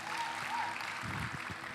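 Applause from a church audience, a soft continuous patter of many hands clapping at a modest level, slightly thinning toward the end with faint crowd murmur behind it.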